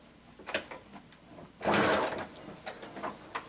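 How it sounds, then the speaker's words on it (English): A sewing machine stitches a jacket sleeve seam: a few light clicks and taps, then a short loud burst of whirring stitching, followed by more soft mechanical ticks. "we're going to sew all the way up until we reach the end of our sleeve using 5/8 of an inch seam allowance"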